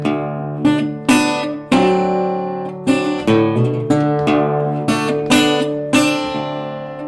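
An acoustic guitar in Bentonia blues style plays a slow introduction, with a series of plucked notes and chords ringing out and decaying between attacks, close and clear with no voices.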